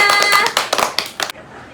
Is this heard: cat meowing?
no